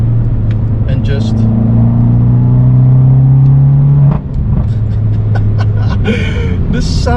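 An Abarth 500C convertible with a 595 exhaust hums in a steady drone with an engine tone that climbs for several seconds, then drops sharply as it shifts up, followed by crackly pops and someone talking over it.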